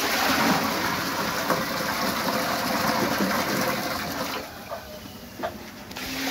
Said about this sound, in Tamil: பாக்கி தண்ணியை சேர்த்துக்கிறேன்.